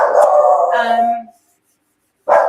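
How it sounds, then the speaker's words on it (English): A dog gives a long howling bark that trails off, then falls silent before a second loud bark starts at the end, close and clear with no talking. "now Kuna's barking"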